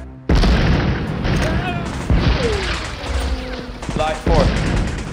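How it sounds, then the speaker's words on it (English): Artillery shells explode during a 1917 World War I battle scene: a burst of loud, close booms arrives in waves with rumbling blasts and crackling, and a few voices come through between impacts. "Artillery incoming!"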